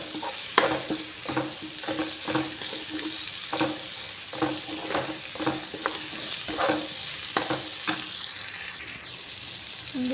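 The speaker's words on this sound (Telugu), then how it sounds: "మంచిగా వేగిపోతాయి." Onions and drumstick leaves fry in a pan for a Telugu drumstick-leaf potato curry, giving a continuous moderate sizzle broken by regular stirring scrapes at close range.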